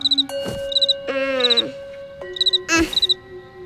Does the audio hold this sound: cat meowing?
no